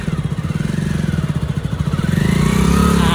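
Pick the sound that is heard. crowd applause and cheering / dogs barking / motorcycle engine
motorcycle engine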